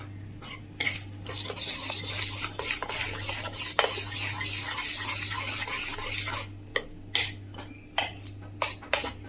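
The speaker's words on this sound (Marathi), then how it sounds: "आता हे व्यवस्थित मिक्स करूया।" Beaten eggs and bread slices are mixed briskly in a bowl for a bread omelette, with rapid rhythmic clinking and scraping of a utensil against the dish, close and loud, pausing briefly near the end.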